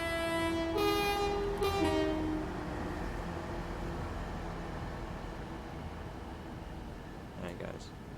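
A Class 185 diesel multiple unit on the Huddersfield Line in Train Simulator Classic sounds two clear horn blasts up front, then rumbles past in a steady, loud roar that fades slightly toward the end.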